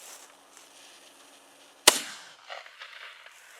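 A homemade backyard cannon, lit with a lighter, fires one sharp, loud bang that rings briefly, after a quiet lead-in with faint background noise and followed by some soft rustling.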